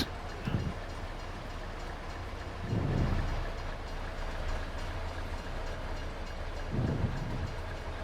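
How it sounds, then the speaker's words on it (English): A long train rolls past a vintage farming site, its wagons rumbling steadily with a low continuous roar and periodic heavier thumps as cars go by, moderately near with no talk. "Look at the train."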